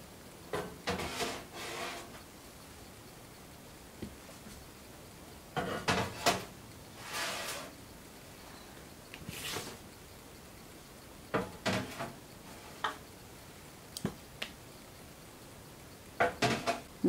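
Clay pots of homemade roast clatter and clunk as they are set into a hot oven, with a scattered series of sharp ceramic and metal knocks and scrapes spread over several seconds, close by and without talk.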